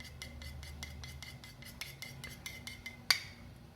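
Two eggs beaten in a bowl with a utensil, a quick steady run of light clinks and taps, close and quiet, ending with one sharper knock on the rim; no talking.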